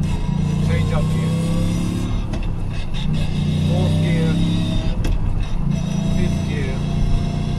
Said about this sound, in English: So shift in the first gear with clutch, drive away, foot on the clutch, accelerator,